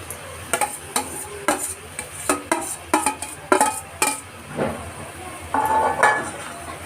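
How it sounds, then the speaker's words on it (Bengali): Fried fig, potato and prawn tipped into masala in a pan and stirred, with a run of sharp spoon scrapes and clatters against the pan over a low sizzle, then a steadier hiss toward the end. "এবার আমি যে ডুমুর আলু চিংড়ি ভেজে রেখেছিলাম লাল লাল করে,"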